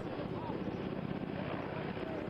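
Indian Air Force helicopter hovering over the Tawi River in Jammu during a rope rescue of stranded fishermen, a steady, dense rotor and engine roar with wind buffeting, continuous and fairly loud throughout.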